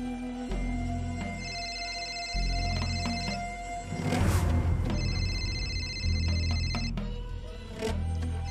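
An incoming call's phone ringtone plays in repeated electronic tone phrases, moderately loud and steady, with faint room noise and soft knocks underneath and no talking.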